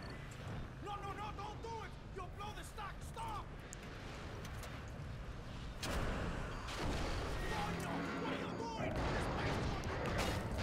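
A gunshot rings out during a Call of Duty: Ghosts mission, a short crack set in busy battle noise with more blasts in the second half and voices talking throughout.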